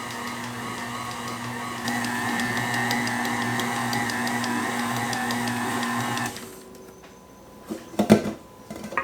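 Stand mixer with a dough hook kneading beignet dough, a steady loud motor whir with a cyclic churning pulse for several seconds, then stopping, followed by a few scraping knocks in the bowl.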